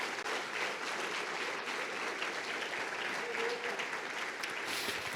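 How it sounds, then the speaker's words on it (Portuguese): A church congregation applauds loudly and steadily, a dense wash of clapping that fills the room for the whole stretch without a break. "Aí aplaudir, aplauda forte."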